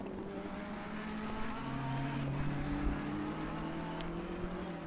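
Race cars in a racing video game, including an Aston Martin in King's Meat Snacks livery and a number 55 Ferrari, on the Paul Ricard circuit. Engines drone steadily with shifting pitch throughout.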